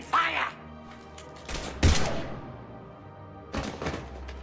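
Gunfire in the Mass Effect 3 video game: a few sharp bursts of shots, one loud impact near the middle and another burst toward the end, over a low hum of background game sound.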